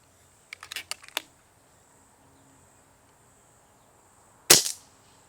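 Shots from an FX Streamline .22 regulated PCP air rifle at high power: a short burst of sharp clicks near the start, then one louder crack with a brief tail a few seconds later, over a faint insect-like hiss.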